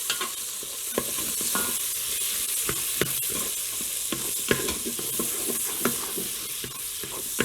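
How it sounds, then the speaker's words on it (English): Butter melts with bacon in a Fissler pan, a steady close sizzle with a spoon or spatula scraping and tapping the pan now and then. "I'm just stirring around a little bit to get the butter melted, mixed in with the bacon"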